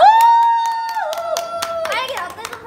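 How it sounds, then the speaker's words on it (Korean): Several people clap hands in a steady rhythm while voices sing along and chatter, the sharp claps close and distinct over the singing. "아, 박수!"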